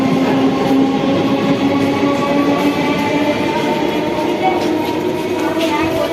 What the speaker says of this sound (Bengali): এই দেখ এই ট্রেনটা ছেড়ে দিয়েছে দেখ